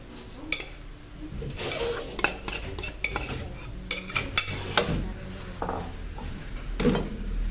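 Rice being added to a pan of pork and mushrooms for breakfast and stirred, giving repeated close metal utensil scrapes and clinks against the pan in an irregular rhythm, with a few louder knocks.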